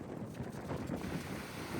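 Strong wind buffets the microphone over surging sea waves in a storm at the coast during rain, a steady broadband roar with no voices.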